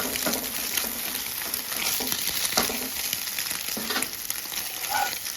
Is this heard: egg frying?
yes